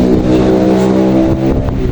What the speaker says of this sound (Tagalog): Maingay yung motor-motor.